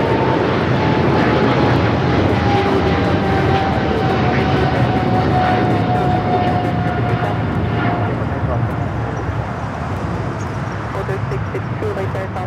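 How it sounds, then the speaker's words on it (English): LATAM Boeing 787 Dreamliner in a special livery at Los Angeles airport, a loud sustained jet roar with a faint whine that slowly fades, people talking over it. "that LATAM Dreamliner in a special livery"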